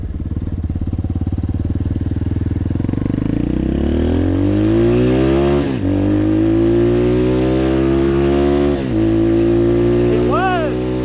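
A 2018 Apollo 250RX dirt bike engine, running on half choke, revs up close and loud in rising sweeps, dropping briefly twice before climbing again.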